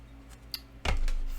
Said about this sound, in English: Let's shuffle this deck a couple times because it's a new deck.